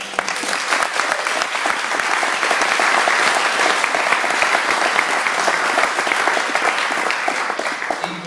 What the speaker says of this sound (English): So if you all give Sarah a big round of applause.